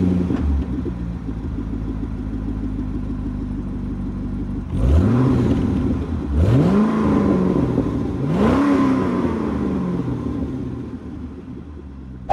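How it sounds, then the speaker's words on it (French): A Corvette C6 engine idles with a deep rumble, then three loud revs rise and fall in sequence, its modified exhaust booming close up with no talking. "Je vais vous démarrer la voiture et vous allez vous rendre compte à quel point le son de l'échappement est complètement pété."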